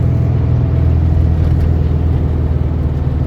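A 1971 VW Beetle 1300 engine drones steadily in third gear on the road, a loud close mid-range hum with a constant low rumble and no voices.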